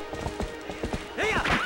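A horse gallops in The Legend of Zelda: Twilight Princess, with a quick rhythm of rapid clip-clopping hoofbeats followed by a sharp, wavering whinny near the end.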